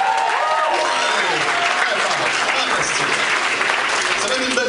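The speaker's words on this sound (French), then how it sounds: "Bravo, applaudissez-vous." Sustained audience applause from a comedy show crowd, dense and steady throughout, loud and close with scattered cheers mixed in.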